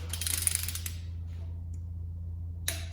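Torque wrench on a cylinder head bolt of a destroked 6-liter engine: a few quick metallic ratchet clicks near the start and one brief click near the end, over a steady low hum.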